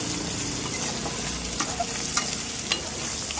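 Prawns sizzling and frying in hot oil for prawn fried rice, a steady loud crackle throughout with a few sharper pops and stirring clicks near the end.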